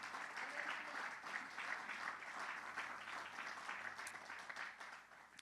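Applause from a church congregation during a Spanish-language sermon, steady and dense clapping that fills the space throughout, moderately loud and sustained with no break.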